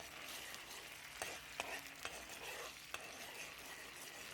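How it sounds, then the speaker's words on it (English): Ketchup and pepper sauce are stirred into hot coconut oil, producing a soft, quiet sizzle broken by several sharp taps and scrapes of a utensil against the pan. "Stir to combine both."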